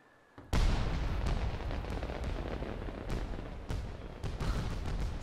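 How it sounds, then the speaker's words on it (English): Fireworks in the video game Ni No Kuni 2 burst in a sudden loud start and keep popping and booming in a dense, sustained barrage with sharp cracks scattered throughout. "Fireworks, right?"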